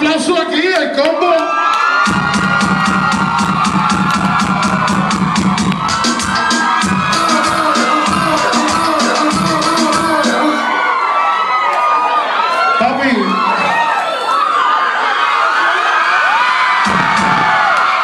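At a Halloween party, a loud crowd cheers and yells in a dense wash of noise, with quick rhythmic claps and a voice speaking over the din.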